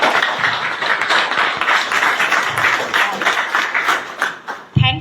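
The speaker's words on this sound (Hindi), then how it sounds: "एक बार चाहती हूँ इस लीडर एकेडमी फैमिली के लिए जोरदार तालियां" A crowd claps for the Leader Academy family at an AWPL Asclepius Wellness gathering, giving steady, dense applause that holds for several seconds before tapering into a few louder closing claps.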